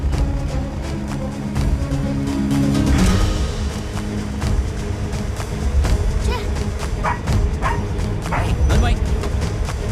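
A dog barks and yelps in short, repeated bursts in a Telugu movie scene, partly buried under people talking and a steady background rumble.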